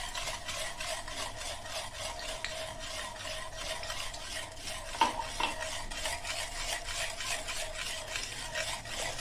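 Dough being mixed by hand in a bowl while oil is gradually added, a steady soft rhythmic stirring and rubbing, close and quiet, with a single clink partway through and no talk.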